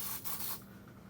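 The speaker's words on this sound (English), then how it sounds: "Spray it right inside." Smoke test spray can sprayed into a smoke detector during a fire alarm system test, a brief close hissing spray burst that cuts off after about half a second, leaving faint room noise.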